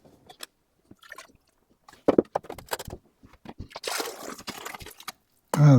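Water pours and splashes in short bursts with pauses between, followed by a louder sustained rush of liquid at the end.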